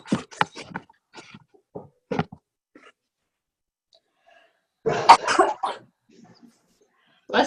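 A loud, abrupt sneeze bursts out after scattered bits of quiet speech, followed by a short pause and a voice.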